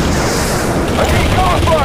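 Dense gunfire from Modern Combat 3: Fallen Nation rattles continuously as loud bursts and booms, mixed with voices and background battle noise.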